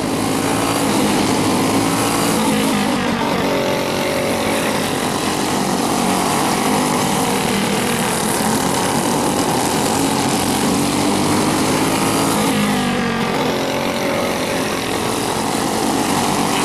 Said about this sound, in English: Green flag racing.